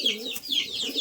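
Competition pigeons of the Madras and Giribaz breeds cooing, soft repeated throaty calls heard close and fairly faint, with no talk over them.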